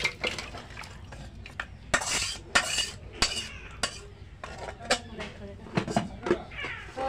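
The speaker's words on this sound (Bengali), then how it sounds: "এখন এটা নামাইয়া পাত্রে বেড়ে নেব।" Cooked curry is ladled from a cooking pot into a serving dish, with close clinks and scrapes of a spoon against metal in irregular bursts, under steady talking and a brief cat meow.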